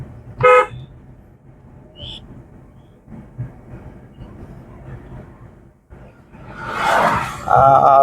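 Loud horn blasts near the end of the clip, sustained honking over engine and road noise, with a short earlier toot.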